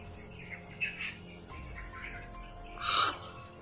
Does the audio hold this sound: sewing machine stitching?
no